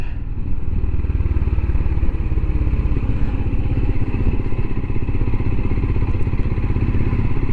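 A Royal Enfield Himalayan motorcycle on a Normandy tour rumbles loudly with a steady, thumping single-cylinder beat, heard up close from the rider's position with no talk.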